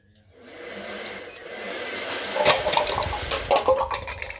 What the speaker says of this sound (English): turn it on high so that the air is moving at the fastest speed as it can in the hairdryer